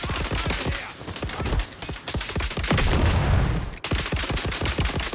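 Rapid gunfire bursts from the third-person shooter video game Dune Awakening, loud sharp repeated shots in quick rhythmic volleys with a brief heavier rumble in the middle, close and dense without speech.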